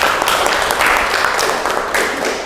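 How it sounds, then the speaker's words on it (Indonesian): A classroom of students gives a short round of clapping for a classmate, a steady, fairly loud patter of many hands filling the room with no voices over it. "Tepuk tangan untuk Risman Ardiansah ya."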